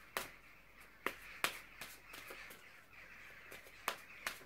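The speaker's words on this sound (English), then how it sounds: "Crows, probably all coming home for the evening outside." Crows cawing outdoors in the evening, several short harsh calls spaced irregularly and somewhat distant over a quiet, faint background.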